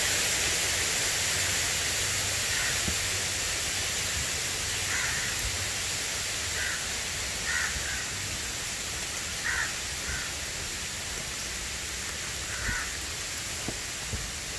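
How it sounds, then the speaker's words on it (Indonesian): Steady broadband rush of a waterfall on a Malaysian nature outing, filling the whole clip with constant, even noise, while a few crow caws cut through faintly in the distance. "Jadi ada air terjun."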